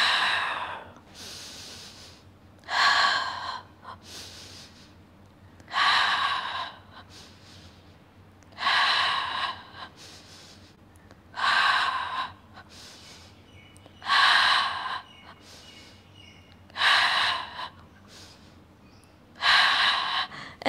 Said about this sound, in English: Deep breath in, exhale.